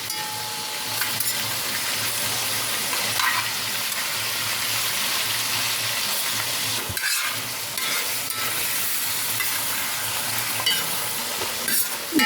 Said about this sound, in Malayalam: നമുക്കിത് തിരിച്ച് മറിച്ച് വിട്ടൊന്ന് ഫ്രൈ ചെയ്തെടുക്കാം